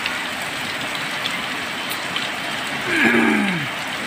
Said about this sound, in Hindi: कितनी तेज़ बारिश होने लगी एकदम से